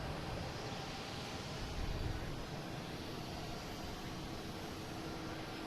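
British Airways Boeing 777 passing overhead on the downwind leg near Boston Logan, a steady, fairly faint broadband jet roar that holds evenly throughout with no voices.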